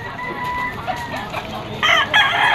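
A rooster crows repeatedly amid the bustle of a Malabon pet market where gamefowl such as a Sweater-bloodline white-ear cock are sold, the harmonic calls loud and near with clucking around them.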